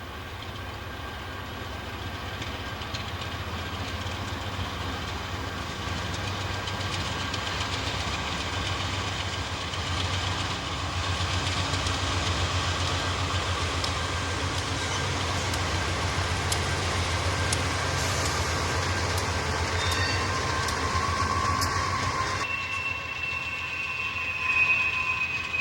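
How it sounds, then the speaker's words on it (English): A CSX trailer freight train on the Henderson Sub rolls past at a steady pace, a continuous rumble of railcars and engine noise at moderate distance that holds for the whole stretch. "The first train you will see is R121, which is a trailer train"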